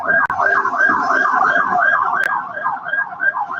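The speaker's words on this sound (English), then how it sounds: "there's ambulance somewhere" A wailing ambulance siren rises and falls in rapid repeating cycles, loud and continuous throughout.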